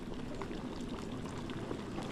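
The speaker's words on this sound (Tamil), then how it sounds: "இப்போ பாருங்கள் நல்லா தடவை கொதிக்க ஆரம்பிச்சிச்சு" A pot of sambar bubbles steadily at a low simmer, a soft continuous gurgling with small popping bursts, nearby and fairly quiet.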